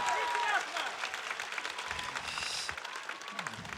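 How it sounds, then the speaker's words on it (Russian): Audience applause for ballet dancer Sergei Polunin at an outdoor performance in Zaryadye Park, Moscow: a dense, steady wash of clapping from a large crowd, with a voice speaking over it at the start. "Аплодисменты, Сергей"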